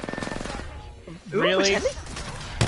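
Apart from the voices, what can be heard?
gunfire in Apex Legends video game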